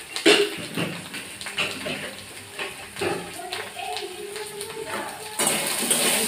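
Cauliflower and potato curry stirred in a pan, giving irregular scraping and clinking of a utensil against metal, fairly close, with brief watery swishes and a few louder knocks.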